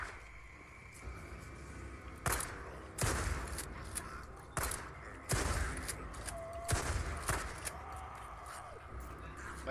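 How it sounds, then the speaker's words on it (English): Gunfire in a video game, bursts of sharp shots in irregular clusters over a low background rumble, fairly close and crisp, with no voices over them. "why are you shooting right now?"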